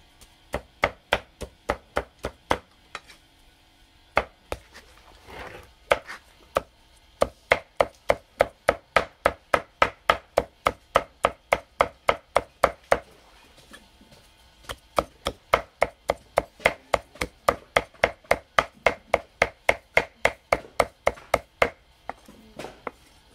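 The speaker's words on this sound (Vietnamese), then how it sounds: "Đây các bạn xem muối xương mình băm này." A knife minces bones on a board for a Vietnamese salted bone dish: sharp, rapid chops in even runs, broken by short pauses, close and clear with no talking.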